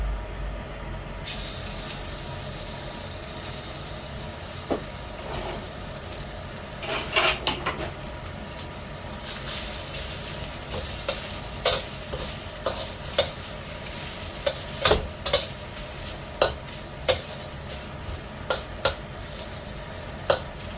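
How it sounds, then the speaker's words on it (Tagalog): Ricados (aromatics) fry in a pan for a seafood and vegetable dish, giving a continuous close sizzle punctuated by regular metallic clinks and scrapes from a utensil stirring. "Fry muna natin ang mga ricados guys."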